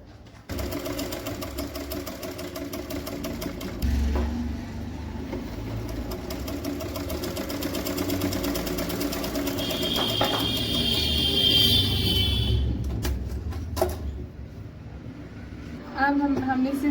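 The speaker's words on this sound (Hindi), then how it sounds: "सिलाई लगाएंगे बिल्कुल कॉर्नर पे।" A sewing machine runs in a steady, continuous whir while stitching the corner of a kurta collar, close up, with a brief pause and restart near the end, no talk.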